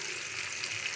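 Cumin seeds fry in hot oil, making a dense, steady, close-up sizzling hiss throughout the short moment.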